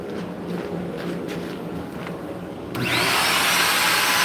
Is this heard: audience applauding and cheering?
no